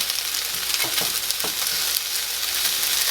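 Chicken pieces fry in a pan with a loud, continuous sizzle up close, broken by a few soft scraping stirs.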